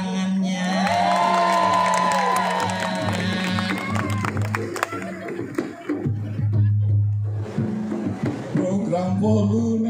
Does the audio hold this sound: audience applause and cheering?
yes